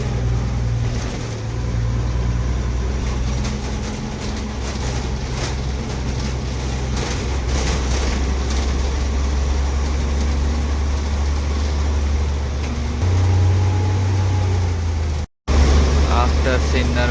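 An MSRTC Tata CNG BS6 Lal Pari bus pulls away from Sinnar bus stand, its engine a steady low drone with road rumble heard from inside the cabin, continuous throughout with a brief cut near the end.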